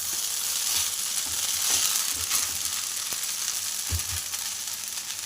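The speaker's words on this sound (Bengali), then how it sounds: "সেমাই দিয়ে এবার নাড়াচাড়া করে বেশ ভালো করে কিছুক্ষণ নেড়ে" Salty vermicelli fries in a pan with a steady, moderately quiet sizzle, broken by scattered soft knocks and scrapes as it is stirred.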